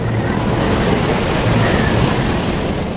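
A giant wave crashes against an emergency vessel in the North Sea: loud, continuous roaring surf mixed with heavy wind buffeting the microphone, with a voice faintly present underneath.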